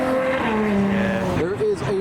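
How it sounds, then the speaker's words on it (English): A McLaren Senna supercar drives away at a roadside, its engine note droning loudly and then shifting pitch as it departs. "There is a McLaren Senna departing."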